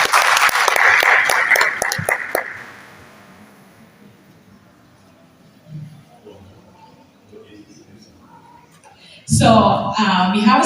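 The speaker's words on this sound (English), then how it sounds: "Let's clap for him as he comes." Applause at an afternoon session of the African Youth Internet Governance Forum 2022, a burst of clapping from the forum audience for about two seconds that fades into quiet room noise before a voice starts speaking near the end.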